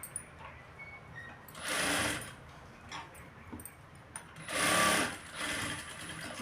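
Sewing machine stitching a blouse, two distinct whirring bursts of rapid mechanical stitching separated by quieter handling clicks and rustles, close and moderately soft.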